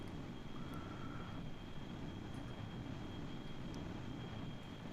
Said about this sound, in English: Afterburners back online. Coming around for another pass.